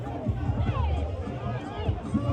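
Crowd of fans gathered around actor Lilwin on the streets of Sunyani, a steady murmur of many voices with scattered shouts and footsteps close by, continuous throughout.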